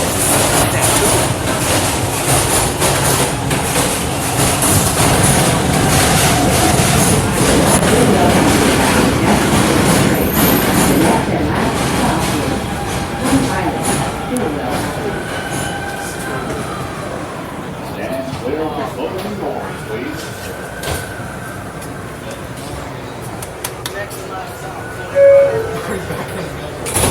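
Riding aboard an R211 F subway train toward Coney Island, the car rumbles and clatters along the track with wheel squeals and a slowing hum, while people talk intermittently over the ride.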